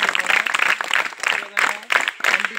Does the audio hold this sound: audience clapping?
yes